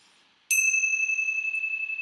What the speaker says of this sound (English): And let's close with the ringing of the bells.